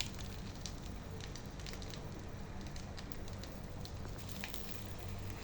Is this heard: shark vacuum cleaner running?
no